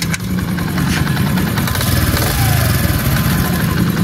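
A 2024 Honda CD 70 motorcycle engine idling up close, a loud, steady low putter with a fast, even pulse throughout.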